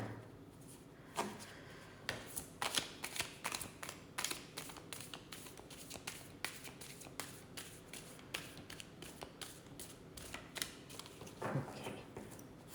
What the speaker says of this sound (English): let's just finish this shuffle and clear the deck.